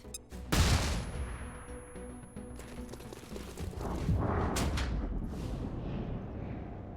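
A grenade explodes during a tactical squad breach in XCOM: Chimera Squad: a sharp, loud blast near the start, followed by rumbling debris and a second surge of crashing noise.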